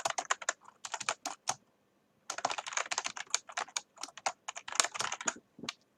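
Fast, uneven bursts of keystrokes on a computer keyboard, close and clear, entering a title in the Star Control 2 game, with a brief pause in the middle before the rapid tapping resumes.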